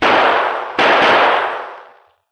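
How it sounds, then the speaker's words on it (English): Gunfire in a western radio drama: two loud, closely spaced blasts, the second less than a second after the first, each with a broad roaring tail that fades out over about two seconds. "3 bullets left, Silver. I'll fire them now."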